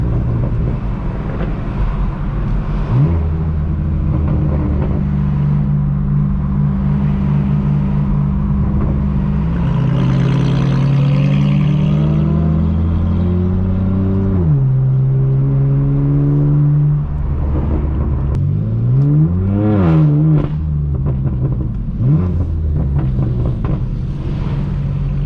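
A straight-piped BMW M4 F82 roars on the road with loud exhaust, holding a heavy drone and then revving up and down through several gear changes, close and unbroken.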